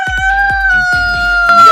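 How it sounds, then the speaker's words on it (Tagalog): Rhode Island Red rooster crowing and clucking up close, a loud strained crow over a short burst of sharp clucks, with a low steady hum underneath. "Ito yung tandang natin na Rhode Island Red."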